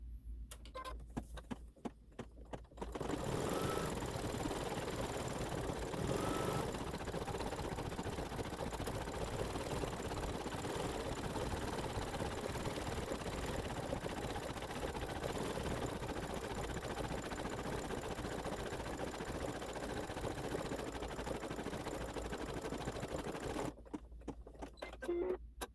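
Sewing machine stitching satin trim onto a quilt block, a steady rapid mechanical whirring and clatter running continuously for about twenty seconds, quiet and close, starting and stopping abruptly.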